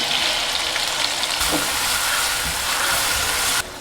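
Diced tomatoes stir-frying in a hot wok, giving a loud continuous sizzle and hiss close by, with faint scraping of stirring underneath and an abrupt drop near the end.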